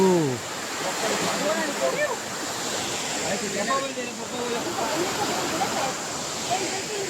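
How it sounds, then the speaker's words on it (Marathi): Steady broadband rush of a waterfall at Marleshwar in the Konkan fills the scene, with voices talking over it throughout. "हा अजून एक धबधबा."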